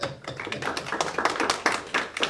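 A debate audience applauds briefly, with scattered, distinct claps close by rising and falling over a couple of seconds.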